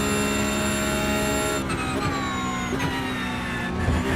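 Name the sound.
Porsche race car engine shifting up through gears in racing video game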